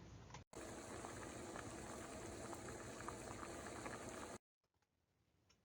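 Pot of water with purple cabbage at a rolling boil, a dense continuous bubbling and hissing that starts abruptly, holds steady for about four seconds, then cuts off to near silence.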